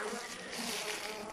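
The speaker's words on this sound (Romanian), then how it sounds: "Mă vizitează 2-3 albinoții" Honeybees buzz steadily at a beehive in the evening, a dense, continuous drone close to the microphone with no talking.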